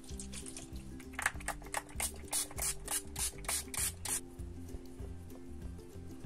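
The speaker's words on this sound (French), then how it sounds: "on termine par le petit spray fixateur." A makeup setting spray gives a quick series of about ten short, close hissing pumps in a steady rhythm, with soft background music running underneath.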